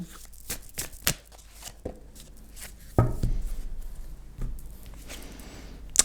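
Tarot cards being shuffled by hand in a quiet room, with soft riffling, sharp slaps and taps at irregular intervals, and a longer rustling run near the middle.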